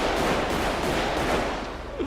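Gunfire during a video game shootout: a continuous rattling barrage of shots, loud and close, steady across the whole moment with no clear talk over it.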